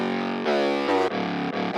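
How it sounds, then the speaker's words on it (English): A distorted 808 bass in a hard trap beat glides between pitches, panned from left to right, a loud, buzzy, sustained tone with several quick pitch jumps. "with the stereo panning on, you can tell the 808 sounds like this on a slide."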